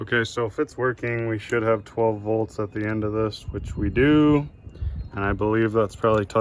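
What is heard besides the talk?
None of the usual background noises is heard.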